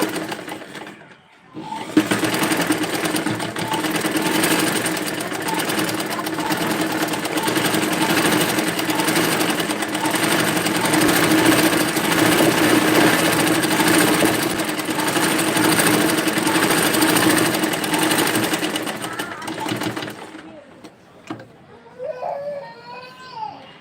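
An electric sewing machine runs steadily as it stitches a work dress, a loud continuous whirring chatter lasting about twenty seconds before it stops, followed by brief faint voices.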